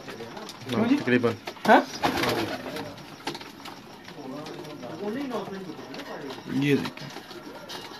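Pigeons coo softly in a champion racing loft in Dubai, their low repeated calls running under close men's conversation.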